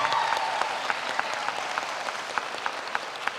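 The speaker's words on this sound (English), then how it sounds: "Give them some applause." Audience at a community college commencement ceremony applauding, a sustained wash of clapping that tapers slightly, with a few distinct sharp claps near the front.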